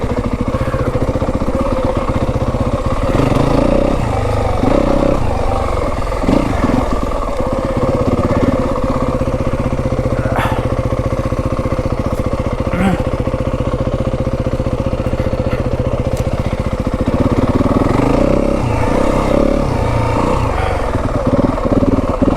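A Yamaha WR250F dirt bike works along rough single track at Kelly Canyon, its engine loud and close with uneven throttle, rising revs and lugging drops, and mechanical clatter over the trail bumps.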